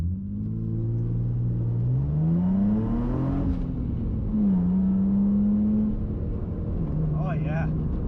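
An Infiniti G35 with a newly replaced clutch slave cylinder launches hard in first gear, its engine revving up in a rising, droning pull that holds and falls back, loud and close, with a person speaking briefly near the end.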